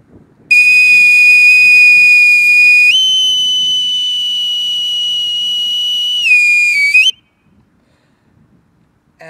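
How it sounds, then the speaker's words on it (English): A boatswain's call pipes a long, shrill whistle during a flag raising, held steady for several seconds, dropping briefly in pitch near the end before cutting off, loud and alone. "the piper holds the call until the flag is raised to the very top of the yard or the mast"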